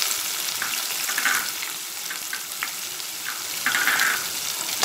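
Onions sauté in a hot pan for cumin vermicelli upma, with a steady close sizzle and occasional scraping stirs.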